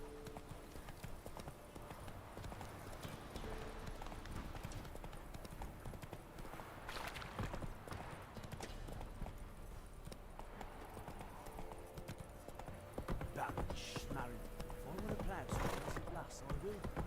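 Roach the horse gallops in The Witcher 3, with rapid hoof clip-clops thudding steadily under occasional speech and game sounds.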